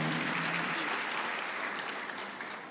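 A church congregation claps steadily and loudly during a worship service, a dense wash of applause that fades slightly toward the end.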